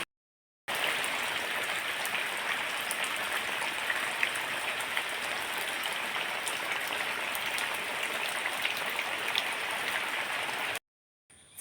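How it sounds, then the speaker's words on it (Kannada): Steady rain falls without pause during the monsoon, a dense hiss of drops on surfaces, fairly soft and even throughout, with no voices, ending abruptly. "ಈಗ ಸಹ ಮಳೆ ಬರ್ತಾ ಉಂಟು"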